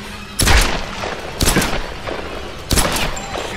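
Three loud, sharp gunshot blasts in the video game Tomb Raider ring out about a second apart, each with a booming tail, close and punchy.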